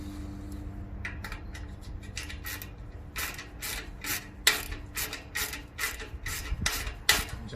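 A ratchet tightening an exhaust clamp under a Dodge Challenger SRT 392 during a mid-muffler delete, heard as close, rapid bursts of clicking strokes that repeat over a low background hum.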